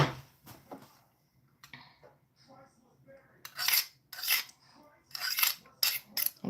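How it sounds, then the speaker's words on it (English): A metal utensil scrapes baked macaroni cheese off a dish in a home kitchen, with several bright, close rasping strokes in quick bursts after a few quieter clinks. "Just scraping that cheese off of there."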